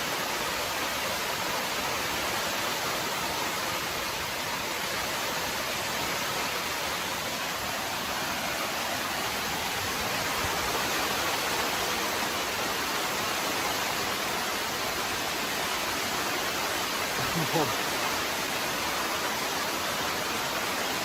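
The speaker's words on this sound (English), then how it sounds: "That's a lot of rain." Heavy midnight rain pours on a tent during a thunderstorm, a dense constant hiss that fills the whole stretch, close and loud, with a faint low thump near the end.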